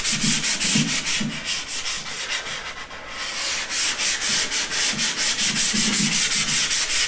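Soft wood is sanded by hand in quick, regular back-and-forth rasping strokes, close and fairly loud, with a brief pause near the middle before the rhythmic scrubbing resumes.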